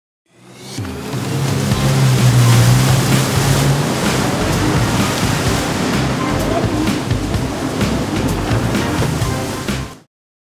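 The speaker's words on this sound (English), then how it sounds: "Behind the fast boat, a man is water skiing." A fast motorboat runs on the open sea towing a water skier, its engine roar and hull spray forming a loud, steady wash of rushing water that holds for about nine seconds before cutting off.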